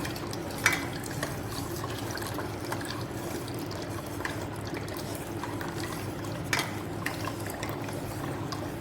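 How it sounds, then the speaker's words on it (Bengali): A spoon works sour curd into lukewarm milk for sweet yogurt, giving a steady, soft liquid swish with a few light clinks against the bowl, alone and close. "চামচ দিয়ে টক দই ফেটে নিয়েছি দুধের সঙ্গে বিলিয়ে নেব"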